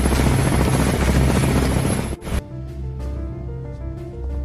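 Loud, steady helicopter rotor and engine roar filling the clip, with a brief dip and shift in tone midway before continuing.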